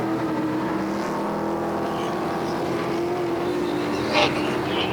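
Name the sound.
stock cars racing around a speedway track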